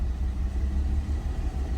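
A car engine with one cylinder cut runs rough in a steady low rumble and idle, close by, with no voices.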